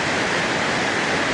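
Bear Creek Falls in Glacier National Park, British Columbia, roars at full flow in a dense, constant wash of broadband noise, close and loud with no pauses.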